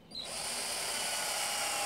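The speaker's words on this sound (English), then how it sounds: "Pre-drilling the hole" A power drill whirs steadily, pre-drilling a hole in wood after a brief start-up, a loud continuous high-pitched motor whine with no voices.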